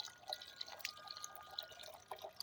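A backyard garden fountain for birds, fed by sprinkler drip lines in a high desert yard, trickles softly with faint scattered drips and splashes, quiet and steady with no talk.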